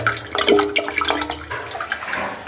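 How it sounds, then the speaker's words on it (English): Water running out of a drain trap beneath a tiled floor, a steady gurgling, splashing flow with irregular bubbling, close by and continuous without talk. "You can hear the water flowing out the trap right here."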